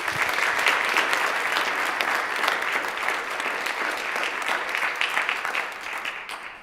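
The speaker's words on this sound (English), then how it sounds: "If you could welcome them with a round of applause" Sustained round of applause from lawmakers filling a state assembly chamber during a floor session, steady and dense throughout, thinning slightly near the end.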